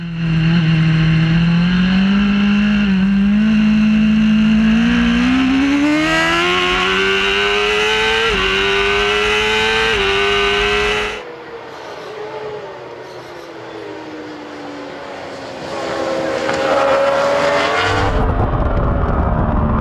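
A race car engine roars close and loud at a race start, climbing in pitch through several gears. It drops away for a few seconds, then surges again with no talking.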